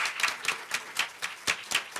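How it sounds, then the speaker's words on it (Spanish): Rhythmic clapping from a group, about eight evenly spaced claps in two seconds, moderately loud with no talking. "vamos a darle otro aplauso"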